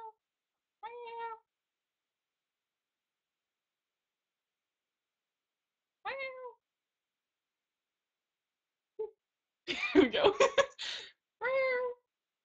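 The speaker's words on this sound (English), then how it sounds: "Her cat is like outside the door and she's going," A cat meows several times, separate calls spaced out by long silences, with a brief burst of noisier sound near the end.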